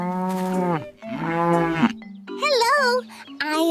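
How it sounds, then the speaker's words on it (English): A cow lows close by in a run of drawn-out moos: two long, steady calls, then a wavering one and the start of another, with short gaps between them. "Hi, I am a cow."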